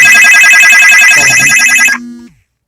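A phone ringtone going off loudly and close, a rapid warbling electronic trill repeating for about two seconds before cutting off abruptly into silence.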